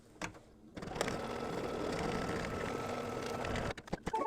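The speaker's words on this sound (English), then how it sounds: "I'm going to stitch the first color stop, and it's going to tack down the batting." An embroidery sewing machine stitching batting in a hoop, a steady rapid mechanical whir and needle tapping that starts abruptly after a couple of clicks and runs close and even for about three seconds before stopping.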